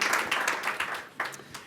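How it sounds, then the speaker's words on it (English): A single person claps at a breakout session, a short run of distinct hand claps at an uneven, slightly rhythmic pace, fairly close and fading toward the end. "Of course, Stephanie's clapping."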